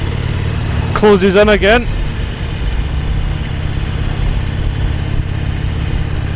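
A Harley-Davidson Iron 883 motorcycle engine runs with a steady low rumble throughout, nearby and fairly loud, while someone talks briefly over it.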